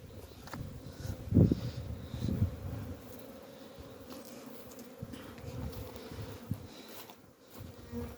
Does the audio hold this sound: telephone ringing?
no